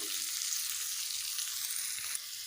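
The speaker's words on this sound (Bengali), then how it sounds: "পেঁয়াজগুলোকে আমি লাল লাল করে ভেজে নেব" Chopped onions fry in oil in a pan for a fish curry, giving a soft, steady hiss of sizzling that is fairly faint and continuous, with a faint clink near the end and no speech.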